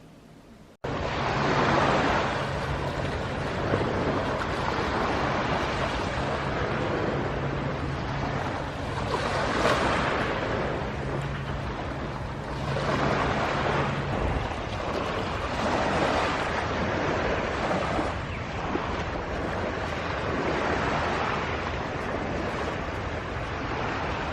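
Sea waves wash onto the shore at the seaside with steady wind buffeting the microphone, a continuous loud broadband roar swelling and easing in slow surges, with no talking.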